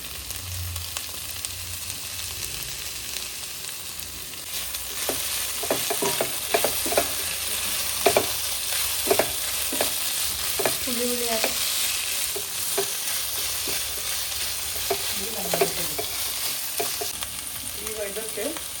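Onions fry with ginger garlic paste and turmeric in a pan for chicken chops, a steady close sizzle with repeated scraping stirs and clinks of a spoon, no talking.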